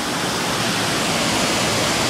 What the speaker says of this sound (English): the river will rush down through there